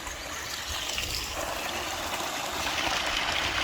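Water runs steadily across a farm, a soft continuous trickling flow heard alone at moderate distance without talk.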